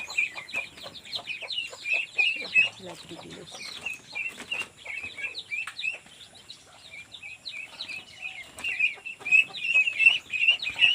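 Many chickens cluck and chirp together in a busy, continuous chorus, with sharper high peeps from chicks and ducklings layered throughout at moderate distance.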